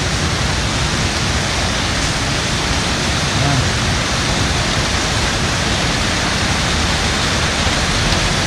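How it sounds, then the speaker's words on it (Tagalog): Heavy rain pours down in a steady, dense roar of broadband hiss, loud and unbroken throughout, with no distinct drops or pauses and a faint voice barely audible beneath it. "hintayin natin tumila yung ulan."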